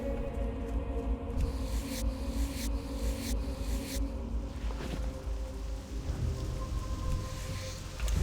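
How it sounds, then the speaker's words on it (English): Steady video game rain hisses throughout, with a few brief bursts of brighter noise early on and a low rumble underneath. "And now it's raining."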